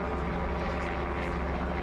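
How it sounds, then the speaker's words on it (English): A sheriff's helicopter flies overhead, giving a steady, droning rotor and engine rumble that stays at an even level throughout with no pauses. "The sheriff helicopter in the air"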